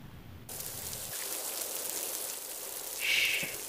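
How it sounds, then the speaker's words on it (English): Rain falls as a steady broadband patter that starts abruptly and continues evenly, moderately loud and close, with a brief brighter hiss swelling near the end. "Shh, it's raining."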